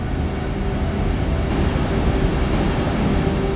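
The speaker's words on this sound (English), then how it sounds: "The sound of the winds from a tiny moon nearly 1 billion miles away." Continuous rumbling wind noise recorded by a probe on Saturn's moon Titan, a dense low roar that holds steady throughout with a faint tonal hum, no talking.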